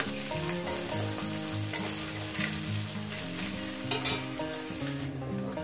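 Small mourala fish fry in hot oil in a pan with a steady, close sizzle and crackle that runs through the whole clip, without any speech.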